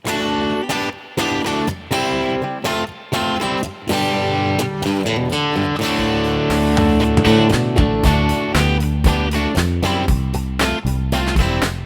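An electric guitar in standard tuning plays a chord riff of quick, choppy stabs that repeat in a loose rhythm, loud and up front.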